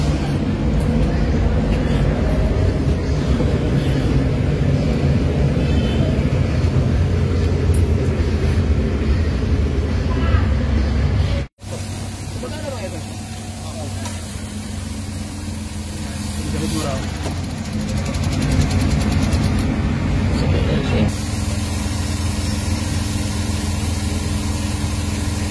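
A Suzuki K6A car engine runs rough and shakes, its RPM rising and falling, a loud close steady drone with a brief cutout midway. Someone talks over parts of it.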